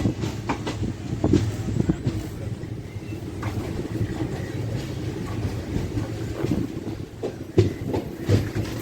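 A passenger train on a Secunderabad to Trivandrum Central run, pulling away from a Kerala station, makes a steady rumble with faint wheel clatter and occasional knocks.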